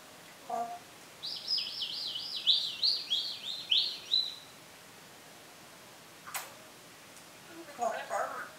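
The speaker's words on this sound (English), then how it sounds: "Look. There's a bird." Bird calling in a rapid series of high chirps lasting a few seconds, fairly faint, followed by a couple of later brief calls, with people talking nearby.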